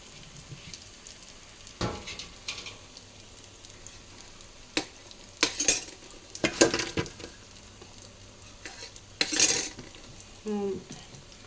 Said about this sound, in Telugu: టమాటా చట్నీకి తాలింపు వేస్తున్నాను.